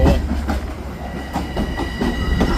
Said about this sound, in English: the Penn train's leaving. Let's go watch it.